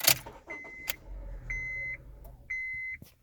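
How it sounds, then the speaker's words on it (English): A Honda's ignition is switched on: a short electronic chime beeps twice amid faint clicks and a low whir, followed by a soft engine rumble, quiet and close inside the car with no talking. "And you could hear it start up,"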